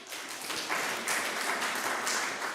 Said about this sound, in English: You're supposed to clap, eh?